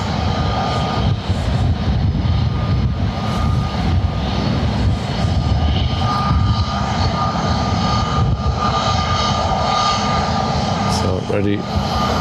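A Condor Airbus A321 jet takes off from Lanzarote Airport, its engines roaring loud and steady throughout, with people talking over the noise.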